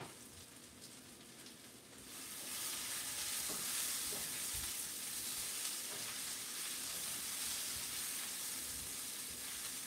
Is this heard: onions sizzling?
yes